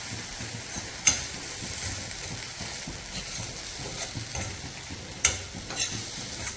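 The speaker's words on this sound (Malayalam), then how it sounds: "എല്ലാം കൂടി നന്നായിട്ടൊന്ന് വഴറ്റി കൊടുക്കുന്നുണ്ട്" Chili powder masala sizzles in a pan for a Kerala-style fish curry while being stirred, a steady close frying hiss with occasional scrapes and two sharp clinks of the utensil.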